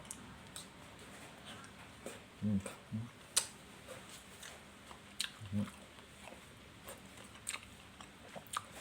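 Someone crunches raw vegetables dipped in canned-fish chili paste at a home lunch, with several close, distinct bites and chews set apart by short pauses. A quiet room hiss runs underneath and no one talks.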